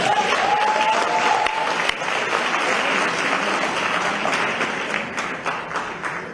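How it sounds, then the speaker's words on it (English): Mourners at a memorial service applaud a speaker with sustained, full clapping that eases slightly toward the end, a brief electronic tone sounding faintly over it near the start. "And I think we owe him a big round of applause."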